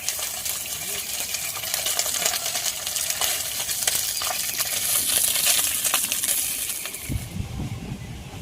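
Fish sizzles and crackles in a hot wok over a wood-fired clay stove, a dense steady frying hiss with occasional clinks and a louder stir near the end.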